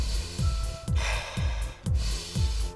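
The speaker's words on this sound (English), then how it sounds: "Concentrating on deep breathing throughout the whole exercise." Rhythmic, deep breathing during a kids' fitness workout: a steady series of quick, forceful breaths and snort-like exhales repeats about every half second, close and fairly loud, with no talking.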